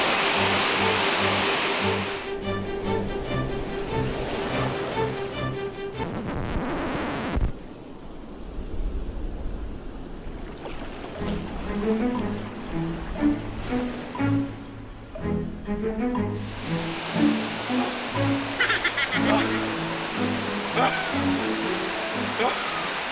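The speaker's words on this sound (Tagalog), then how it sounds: "Hampas ng alon lang ang maririnig sa lugar." Waves breaking on a long white sand beach in San Vicente, Palawan, giving a steady wash of surf throughout, with a voice talking over parts of it.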